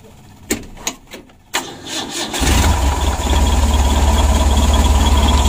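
A motorcycle engine with a battery that is not fully charged, checked for misfiring spark plugs, starts after a few sharp clicks and crank attempts, then settles into a loud steady idle up close.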